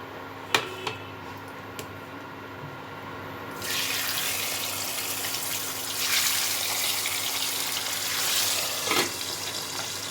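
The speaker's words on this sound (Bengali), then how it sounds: "এবার আমি একে একে মাছগুলো ভেজে নেব।" Papda fish frying in hot oil: a few faint taps open, then from about three seconds a steady, fairly loud broadband sizzle swells and holds with light crackles, no voices.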